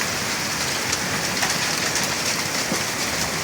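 Heavy rain pours down hard at a farm during a storm with strong wind, a dense, loud, continuous hiss with scattered droplet impacts and no voices.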